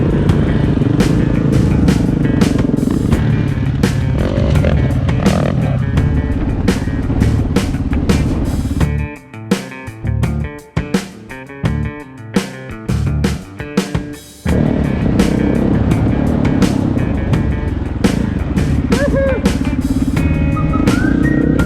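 Dual sport motorcycles ride an off-road OHV trail near Divide Peak above Santa Barbara, California, with loud, close engine roar and revving that fall away briefly to choppy, intermittent bursts before the steady drone returns.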